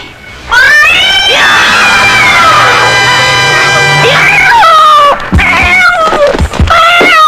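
A cat yowls loudly in a Bollywood horror film scene, with long harmonic wailing cries over a noisy crowd-like background, breaking into several shorter cries near the end.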